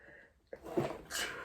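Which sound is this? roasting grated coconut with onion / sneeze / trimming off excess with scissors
sneeze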